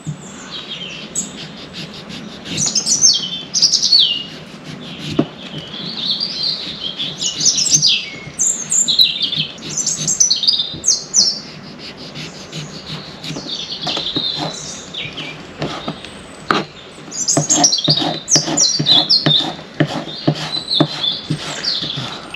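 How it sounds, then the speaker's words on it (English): Birds sing outdoors beside an open-air cooking spot, a steady mix of high chirps and tweets from several birds, moderately close, with scattered clicks and clatter but no talking. "The bird song makes a lovely relaxing backdrop to the cooking."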